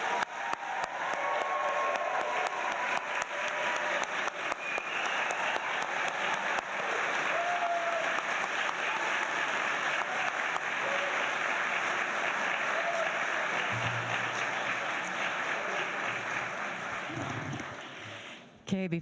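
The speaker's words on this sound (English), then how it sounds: "Please join me in one more round of applause for our class of graduates" An audience at a university School of Education graduation ceremony gives the graduating class a long round of applause, steady crowd clapping that carries on for nearly twenty seconds before tapering off, with a few voices underneath.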